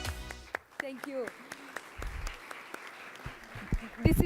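Scattered applause at a youth event on a sustainable Mediterranean, sparse claps mixed with a voice talking over them, uneven and moderately close.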